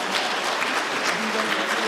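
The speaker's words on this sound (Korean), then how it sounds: "자리하고 있는 순간도 따뜻한 박수로 맞이해 주시면 좋을 것 같습니다." Warm audience applause at a Teachers' Day ceremony as a school choir takes the stage, a steady wash of clapping that runs briefly at moderate loudness.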